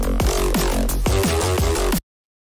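A drum and bass track plays loud and full with punchy kicks, a driving beat and a pitch-bending lead for about two seconds before cutting off abruptly to silence.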